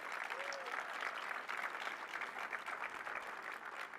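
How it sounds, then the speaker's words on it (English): A crowd at the Port of Baltimore applauds port workers, a dense, steady wash of clapping heard from a distance, fairly faint and even throughout. "Let's give a big round of applause for all of our port workers here"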